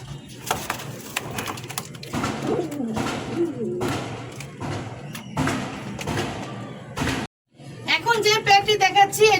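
Pet pigeons offered as a breeding pair coo at a market, soft repeated calls with bird chirps mixed in, heard over steady nearby talking that stops briefly near the end.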